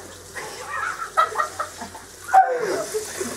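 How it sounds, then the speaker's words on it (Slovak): A chicken clucks in short, close bursts, a series of sharp, fairly loud calls with brief pauses between them, with no speech over it. "Slepice."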